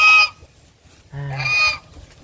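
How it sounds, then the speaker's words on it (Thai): Geese honk on a farm in two loud, close bursts, a short call followed by a longer nasal honk after a brief pause, with no talk. "ห่านกับพี่น้องเลย"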